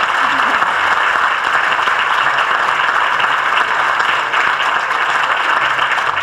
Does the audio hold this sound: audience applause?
yes